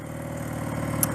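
The engine of a 1979 Honda CM185 Twinstar motorcycle idles steadily at close range, an even, low, pulsing rumble with no speech over it.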